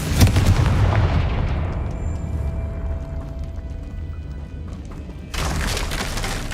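A Confringo blast spell explodes in Hogwarts Legacy, a loud booming burst that rumbles and slowly decays over several seconds before a second sharp blast hits near the end.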